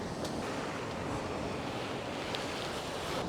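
Strong, steady wind roars across a seaside causeway leading to a lighthouse on the exposed side of Malta, a dense continuous rush with surf-like wash and buffeting on the microphone, no voices.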